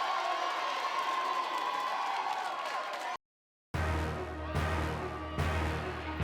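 A high school student section from El Camino cheers loudly, a dense roar of crowd voices, whoops and clapping, cut by a brief silence, then more crowd noise with voices.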